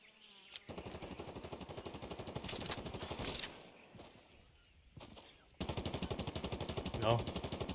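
Sustained automatic gunfire from the Fortnite video game, rapid dense bursts running across most of the clip with a brief lull midway before loud rattling fire resumes, no talking over it.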